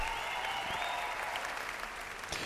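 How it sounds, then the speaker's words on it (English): Steady applause from a crowd in Final Fantasy VII Rebirth, continuous and fairly close, with a brief flare of louder clapping near the end. "I need you to clap for the both of us."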